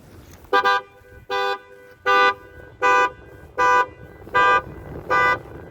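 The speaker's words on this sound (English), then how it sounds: "using her security alarm that her vehicle's equipped with to either scare me off or make it look like that I'd done something to her car" Car security alarm blaring in a regular pattern of seven loud, evenly spaced horn-like tones, each about half a second long, with quiet outdoor background between them.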